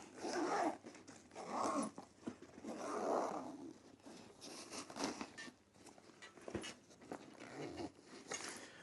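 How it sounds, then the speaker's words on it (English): A zip on a motorcycle tank bag is pulled open in several quiet rasping strokes, close and soft, with rustling of the bag between them. "And if we open this second zip,"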